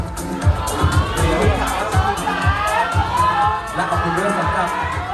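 Pageant audience at the Miss Tourism Thailand contest cheers and shouts steadily, a dense crowd roar with whoops and rhythmic chanting that stays loud throughout.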